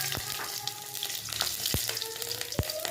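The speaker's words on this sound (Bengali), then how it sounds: "এবার ফোড়নের জন্য দিচ্ছি একটুখানি জিরে, সাদা জিরে আর দুটো লঙ্কা" White cumin seeds and two chilies crackle in a little hot oil in a kadai, a dense close sizzle punctuated by sharp pops and spatters.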